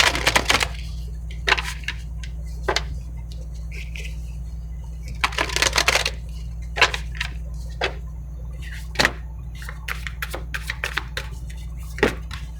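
Tarot cards are shuffled and handled, giving a string of crisp slaps and riffles that land in irregular bursts over a steady low hum. A person talks faintly now and then.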